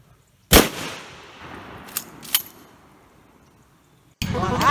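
A single loud, close blast from a 12 gauge shotgun firing low-powered shells, followed by a couple of faint metallic clinks and then a burst of rustling or voice at the end.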